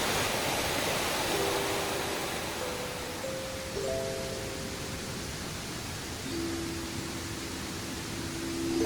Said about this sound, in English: Waterfall behind me.